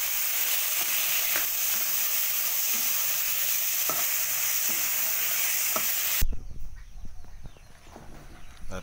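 Garlic, tomato and onion hitting a hot frying pan for pinakbet, a loud steady sizzle that suddenly drops into softer crackling and stirring clatter.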